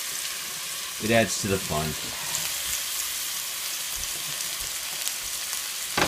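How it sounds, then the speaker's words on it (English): Onions frying in olive oil in a pan, a steady close hiss and crackle running throughout while a voice talks briefly over it. "then you're going to put your onions in your olive oil"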